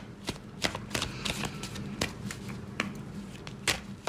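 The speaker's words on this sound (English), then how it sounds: "And let's pull some cards for the week ahead." Tarot cards are shuffled close up in quiet surroundings, a series of soft riffling flicks and taps at an irregular pace.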